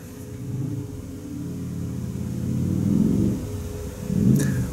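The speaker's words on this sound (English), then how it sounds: "that revs their engine, their motorcycle, whatever it may be" A motorcycle engine revs in the distance. Faint, low rumbling swells rise and fall a few times, the loudest near the end. No one speaks.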